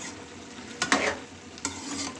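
A pot of simmering potato, pea and carrot curry being stirred, a low bubbling bed broken by two or three short scraping strokes of the spoon, close and fairly quiet, with no voices.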